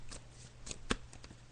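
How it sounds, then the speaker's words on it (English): Tarot cards being shuffled by hand in quiet surroundings, a few soft papery riffles and one sharper snap near the middle, fairly faint and close, with no talking. "Janet, so I'm just shuffling the cards now"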